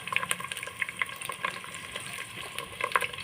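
Green chili, ginger and garlic paste frying in hot oil, a steady close sizzle with scattered sharp crackles and pops throughout, no talking.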